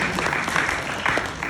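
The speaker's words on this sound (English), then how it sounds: "he's clapping. So clap for him." An audience claps at a church youth conference teaching, a dense, steady burst of applause throughout the short clip, close and fairly loud.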